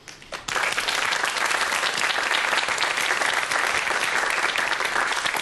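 An audience at a Korean science lecture on the biology of romance novels breaks into applause: a brief quieter patter, then dense, loud, sustained clapping filling the room.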